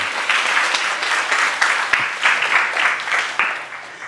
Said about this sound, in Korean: 박수를 좀 더 크게 쳐볼래요?